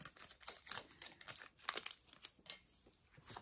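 Soft crinkling and rustling as a Cricut-cut sticker sheet is peeled off its backing, a continuous papery crackle for a few seconds, close and quiet with no talking.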